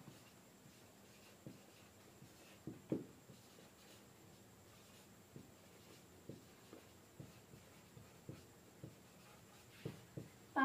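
A pen writing numbers by hand on paper, faint close scratches and taps in short irregular strokes with small pauses between, quiet and alone.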